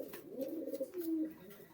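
A pigeon gives soft, low cooing close by, a couple of throaty rolling coos in quick succession against a quiet background.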